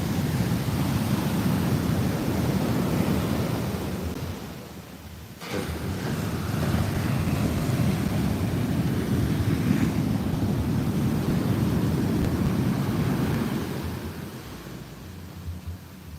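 Ocean surf pounds the shore at Muaro Bayang beach in Pesisir Selatan during bad weather, a continuous loud roar with heavy wind buffeting the microphone and a brief lull midway.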